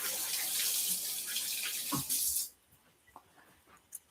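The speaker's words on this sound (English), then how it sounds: "And I've washed my hands, and I'll wash again" Tap water runs steadily into a sink as hands are washed, a close broadband splashing rush that cuts off abruptly, leaving a few faint drips and small clinks in near silence.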